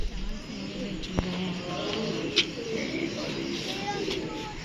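A captive female pigeon cooing close by, soft repeated low throaty coos rolling in a loose rhythm, with a faint tap and some quiet background noise.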